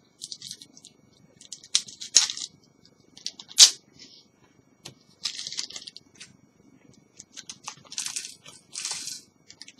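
Small metal model kit screws for a Routemaster bus being sorted by hand, producing scattered light clicks and tinkling rattles in irregular bursts, close up and quiet, with no speech.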